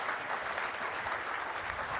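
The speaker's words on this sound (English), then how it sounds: "Let's give a big round of applause for both Ryan and Aaron today" Audience clapping after a session at the Atlassian Summit 2013 conference, a dense, even burst of applause from a roomful of people, moderately distant, with no one speaking over it.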